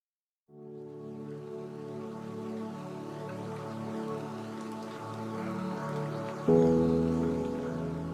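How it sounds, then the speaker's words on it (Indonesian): Rain falling steadily outdoors during a joint military and police patrol, a continuous even patter that swells louder near the end, with no talking over it. "Oh, hujan juga."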